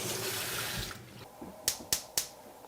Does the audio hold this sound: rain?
no